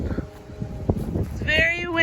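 Strong wind blowing outdoors on a farm, buffeting the microphone in gusty low rumbles, with a few sharper whistling tones near the end and a voice faintly beneath.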